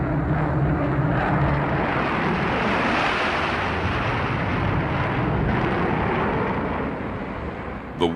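Northrop flying wing jet bomber fitted with eight turbojets, a steady broadband roar of jet engines holding loud and unbroken throughout, easing slightly near the end.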